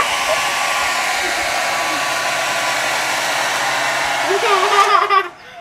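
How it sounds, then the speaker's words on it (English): A hair dryer blows with a steady, loud whoosh, its pitch shifting briefly near the end before it cuts off. "So we got an air dryer, blow dryer. Hair dryer, yep."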